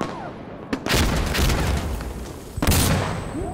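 Flashbangs go off in the tactical shooter Insurgency Sandstorm, two sharp, loud blasts about two seconds apart, each followed by a sustained ringing roar of noise, with no voices.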